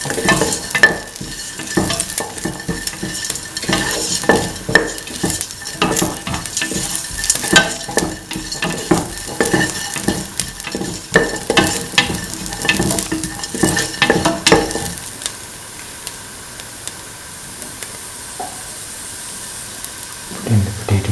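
Garlic pieces are stir-fried with a vegetable mix for a bottle gourd, potato and coconut milk dish, giving loud continuous sizzling with repeated scraping stirs, then a quieter softer hiss near the end.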